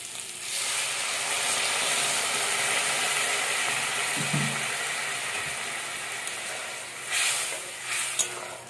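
Water is poured into a pan of sizzling bitter gourd curry, giving a loud, steady hiss and sputter that swells near the end with a few sharp bursts, no voices over it.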